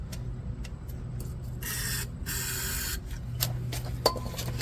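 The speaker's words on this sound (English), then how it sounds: "give it another spray" Starting fluid hisses from an aerosol can into a lawnmower engine in two short, bright bursts over a low background hum, followed by faint clinks and scrapes of handling.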